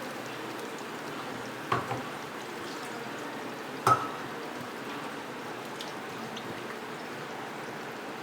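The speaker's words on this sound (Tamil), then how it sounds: "கொஞ்சம் தண்ணி ஊற்றிக்கலாம்." Water is poured steadily into a pot, a continuous soft splashing trickle with a couple of brief clinks along the way.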